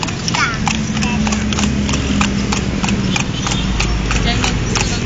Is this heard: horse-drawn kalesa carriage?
yes